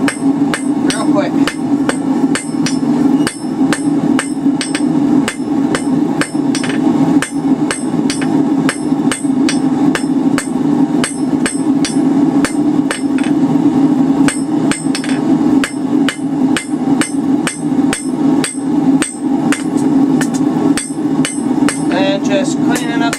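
Hammer blows on hot steel as a drive hook is forged on the edge of an anvil, a fast, regular run of sharp ringing strikes close by, continuing without pause.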